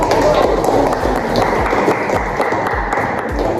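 A classroom of students claps together, a dense steady patter of hands that is loud and fills the room, with a steady hum underneath.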